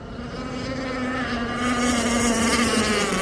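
A Zenoah 29cc gas engine with a steel tuned pipe whines at high pitch with a buzzing, steady drone that rises slightly in loudness, an Aeromarine Avenger 44 RC boat running on choppy water.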